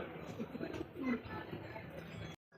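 Pair of white Lakkha pigeons cooing softly amid low background murmur, a steady faint layer of coos and rustling that cuts off abruptly near the end.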